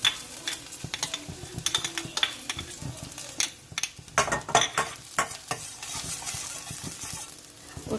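Finely chopped garlic frying in a small amount of oil for chicken spring rolls, a steady close sizzle broken by scraping stirs and metallic clinks of a spoon against the pan.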